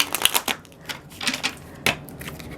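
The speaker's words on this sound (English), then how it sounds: "Sorry, I shuffle really weird." Tarot cards shuffled by hand, giving a string of quick papery riffles and flicks in uneven bursts, close up and fairly quiet, with no talking.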